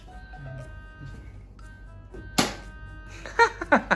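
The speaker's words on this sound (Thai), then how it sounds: "แม่คุณแม่จะยิงแล้ว แม่จะยิงแล้ว" A toy dinosaur-themed foam dart blaster fires at dinosaur targets during a game between a child and a mother, giving a few sharp thumps and clatters near the end after quiet background sounds.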